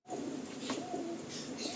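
Giribaj pigeons in a loft in Kolkata coo softly and continuously close by, with low throaty murmurs and a faint background hum.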